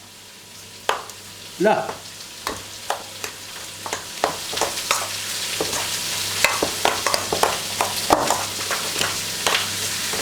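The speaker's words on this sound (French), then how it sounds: "Allez, je remue." A veal, beef, pork, ham and breadcrumb stuffing mixture being stirred in a frying pan for stuffed cabbage, with a steady sizzle and a string of sharp spatula scrapes and knocks growing busier, and one brief spoken word.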